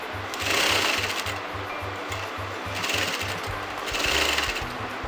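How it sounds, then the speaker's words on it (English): A sewing machine stitches fabric along a marked line for a pin tuck top, its rapid even needle rhythm chattering close and steady throughout, swelling slightly in short bursts with no talking. "I'm going to sew on the line what I have marked before."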